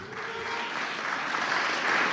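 Audience at an interfaith conference applauding steadily, a dense wash of hand claps that holds strong for the full two seconds with no voices over it.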